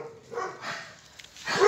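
A blind rescued dog kept in a yard with a doghouse gives a few short barks and yips, close and moderately loud, separated by brief pauses, with no talking over it.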